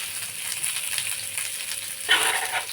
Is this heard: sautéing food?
yes